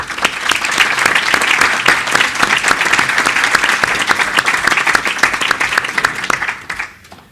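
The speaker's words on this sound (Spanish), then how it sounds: "necesita y quiere un gran aplauso para él." Dense, steady applause from a conference audience after a doctor's talk on economic and social matters, many hands clapping close together for about seven seconds before quickly dying away.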